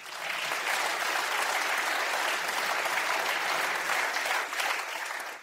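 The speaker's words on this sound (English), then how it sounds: "I think it's really cool that you're all clapping." Sustained audience applause at a panel discussion on energy and inflation, a dense, even wash of many hands clapping at once, steady and moderately loud, with a brief dip near the end and no speech over it.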